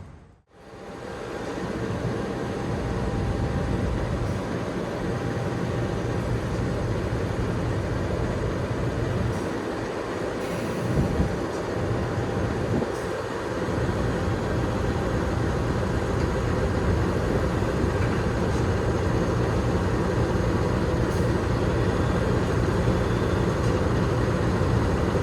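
Malabar passenger train locomotive on track 3 of a station, coupled to its carriages, giving a steady loud rumble of engine and rail noise throughout, with a few brief low thumps near the middle.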